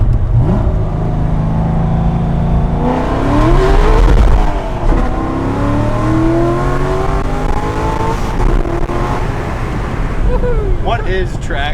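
A car engine revving and accelerating hard through several gear shifts, loud and close with rising and falling pitch, possible tire noise, and a voice speaking over it.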